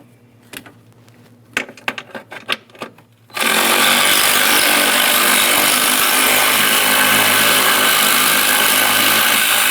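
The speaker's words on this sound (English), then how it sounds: "We'll just go ahead and start removing that bolt" A bolt is taken out of the washer fluid reservoir mount on a 2015-2020 Ford F-150, with a few sharp clicks and then a sudden loud, steady power-tool whir that runs close up and unbroken to the end.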